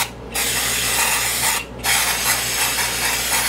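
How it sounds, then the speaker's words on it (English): Shine spray hisses from a can in two long bursts onto buttercream ruffles on a cake, with a short pause between them, close and loud. "what I'm doing is I'm just spraying this to make them shiny."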